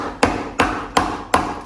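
A hammer tapping on chocolate to crush it for baking, four evenly spaced sharp knocks in quick succession, close and moderately loud, with no talking.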